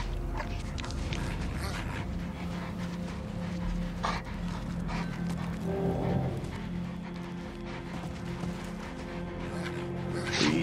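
A dog pants and shuffles about in the Mad Max video game, a steady close breathing rhythm over a continuous engine hum and game ambience.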